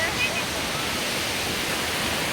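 Sea waves at Somnath beach make a continuous, loud broadband wash of surf with no distinct breaks across the short stretch.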